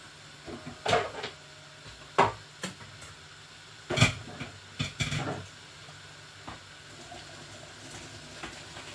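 Boiled carrots and peas are strained in a home kitchen, with scattered clanks of a pot and colander and a soft splash of water, fairly quiet and intermittent, with no talking.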